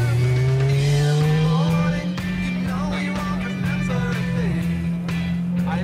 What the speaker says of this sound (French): Ah, j'adore les moteurs Honda.